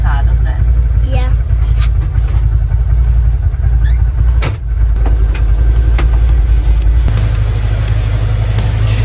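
A CFMOTO vehicle engine drives across a field, a loud, steady mid-pitched drone with a few brief higher revs and knocks, and a voice talking over it throughout.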